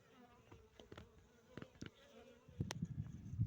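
Honey bee in flight beside a hive, heard as a faint buzz that passes close in short bursts over quiet background, then a louder rustle toward the end.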